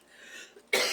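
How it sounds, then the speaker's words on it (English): A single sharp cough bursts out loud and close near the end, after a stretch of quiet, faint room noise. "See, it makes me so sick, I cough."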